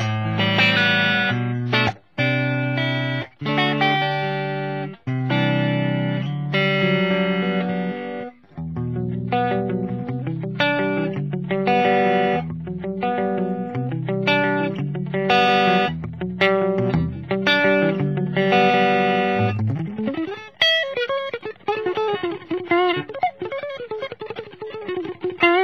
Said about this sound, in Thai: เสียงแตกตัวนี้ผมใช้จำลองเป็นแอมป์เมซ่าบูจี้นะครับ